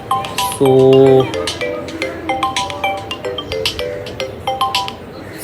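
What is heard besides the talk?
phone ringtone, incoming call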